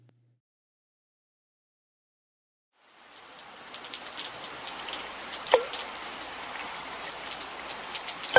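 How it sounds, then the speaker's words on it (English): Steady rain falls after about three seconds of silence, with a soft hiss of drops on a surface that builds and holds, plus a few louder drips near the end. "Rain, rain, go away."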